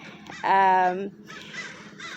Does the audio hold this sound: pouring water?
no